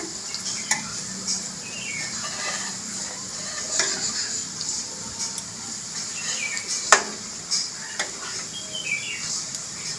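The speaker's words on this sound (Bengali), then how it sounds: "এক পিঠ ভাজা হয়ে গেছে এবার উল্টে দেবো সব পেঁয়াজিগুলোকে" Onion pakoras (piyaji) frying in hot oil, a steady low hiss with faint crackles and a few sharper pops and taps throughout, heard alone at moderate distance.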